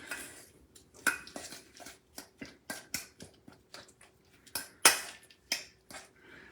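A spoon scrapes and taps through jam bite batter in a cold bowl, making a quick irregular series of sharp clinks and knocks with short gaps between strokes, close and alone.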